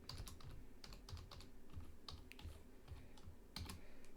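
Someone types an email address and password on a computer keyboard, with steady rapid key clicks and a few sharper strokes running throughout, close and fairly quiet, without any talk.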